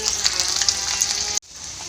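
Panch phoron spices crackle and sizzle loudly in hot oil left from frying fish, a dense close spitting that cuts off abruptly near the end before a quieter hiss resumes.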